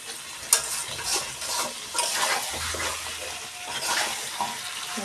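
Chicken curry with potatoes being stirred and sautéed in a pan, a steady sizzle with repeated scraping stirs, moderately close, with no talk over it.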